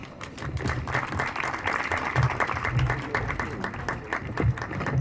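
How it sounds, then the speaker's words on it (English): Audience applause at a school World Food Day event, a moderate, continuous patter of many hands clapping at an even level, somewhat distant, with crowd murmur mixed in. "Let's give her one more round of applause."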